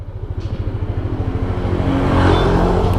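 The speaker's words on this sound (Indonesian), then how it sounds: "ini juga sudah dilengkapi ACG starter. Jadi suara starternya itu lebih senyap." A Yamaha Nmax 155 ABS Connected 2020 scooter with a quiet ACG starter catches after a brief whir and settles into a close, pulsing idle that rises into a steady engine hum.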